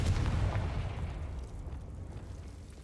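A Confringo spell explodes in Hogwarts Legacy: a deep rumbling boom right at the start, its low roar slowly decaying over a few seconds.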